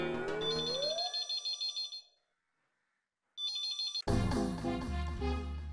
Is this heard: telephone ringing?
yes